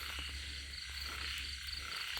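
A large frog croaks in short, repeated pulses alongside a constant night chorus of insects and other frogs, with no voices.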